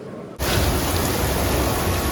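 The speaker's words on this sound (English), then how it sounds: "at the rain coming down again and lightning" Steady rain pours down during a thunderstorm in Venice, a dense broadband hiss that begins abruptly and holds loud and even, with no voices over it.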